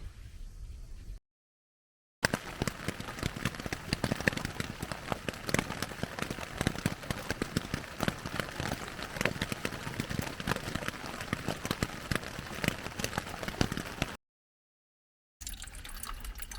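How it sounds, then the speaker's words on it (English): Rain falls steadily outside a tent during spring backpacking, a soft continuous patter and hiss, fairly faint, broken by two short silent gaps. "It's still raining outside."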